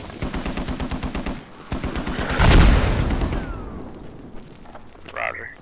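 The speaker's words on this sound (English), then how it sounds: "Hey, incoming mortars," Mortar explosions in the video game Squad, rapid automatic gunfire followed by a heavy booming blast that rumbles and fades, with a brief voice at the end.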